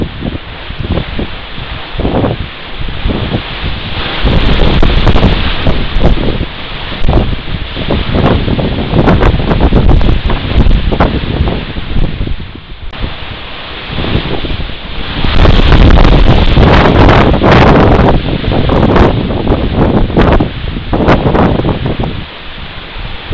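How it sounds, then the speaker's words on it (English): Strong April wind roars across steep mountain cliffs in alpine goat country, loud gusts buffeting the microphone in rumbling surges that rise and fall without a break, with no voices. "In the following clips, mountain goats struggle to stay upright in a strong wind."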